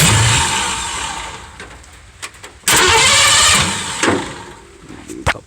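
A 1978 Ford truck engine cranks and catches, then bursts into a loud close rev and settles with uneven surges, no talk over it.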